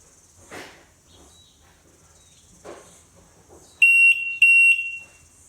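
Two short, shrill electronic chirps from a Yamaha WaveRunner confirming a change to low RPM mode ring out close by near the end, following quiet background noise and a couple of soft rustles.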